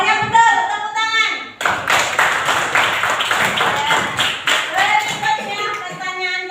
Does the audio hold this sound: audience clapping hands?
yes